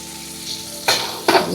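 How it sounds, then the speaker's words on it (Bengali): Onion, tomato and green chili fry in mustard oil for a Bengali mutton curry, a steady close sizzle broken by two loud scraping stirs near the end, with no talking. "এটা ভালো করে নাড়াচাড়া হচ্ছে দেখুন"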